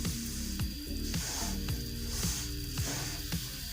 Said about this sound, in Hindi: 5 से 10 मिनट हमने इसे भूनना है अच्छी तरह।